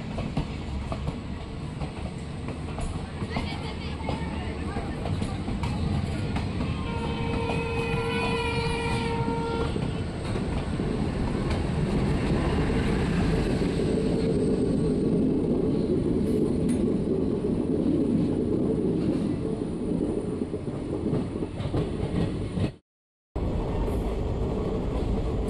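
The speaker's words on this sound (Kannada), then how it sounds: "ಹಾಗೆ ನಮ್ಮ ಟ್ರೈನ್ ವ್ಯಾಸಕಾನಂದಿ ಜಂಕ್ಷನಿಂದ ಹೊರಟಿದೆ." A train pulling out of Vyasa Colony junction on the Hospet to Davanagere line, a continuous loud rumble with rhythmic wheel clatter and a brief horn-like tone partway through, heard from on board.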